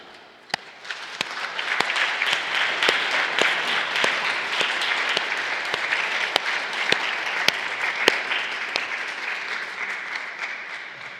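Sustained applause from a church congregation at Sunday mass honoring mothers, dense steady clapping of a large crowd with a few sharper claps standing out, lasting throughout.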